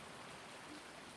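Steady rain in Farming Simulator 19, a soft, even hiss of falling water with no breaks.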